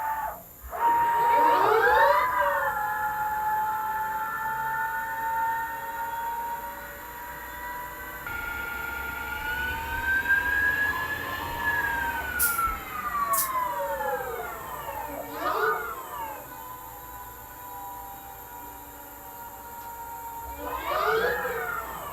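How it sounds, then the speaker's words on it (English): ProtoTRAK RLX CNC machine spindle running a finish cut, a sustained tonal whine that rises and falls in pitch as speed changes, steady and fairly loud throughout. "Start the spindle"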